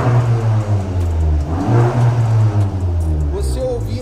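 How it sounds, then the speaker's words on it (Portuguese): Volkswagen Jetta GLI tuned to about 310 wheel horsepower revving, a loud close engine drone rising and falling, with someone talking over it. "Dá uma acelerada no carro."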